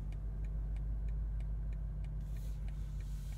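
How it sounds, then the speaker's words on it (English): A 2023 BMW M8 Competition coupe's turn signal ticks in an even rhythm, about three clicks a second. The crisp, faint ticks sit over a low steady engine hum inside the cabin, then fade out near the end. "Turn signal sound."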